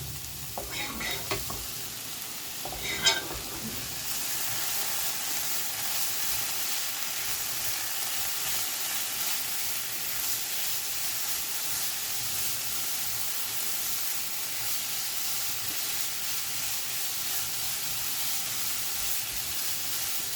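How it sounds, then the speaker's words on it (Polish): Vegetables for a broccoli cheese soup are stirred as they fry in a pot: a few utensil knocks at the start, then a long, even sizzle and hiss with no voices. "jakiś czas mieszamy"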